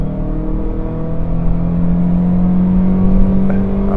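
A Mini Cooper 1.6 with a naturally aspirated engine accelerates: a loud, steady engine drone that rises gradually in pitch over a few seconds, heard from inside the car with no talking.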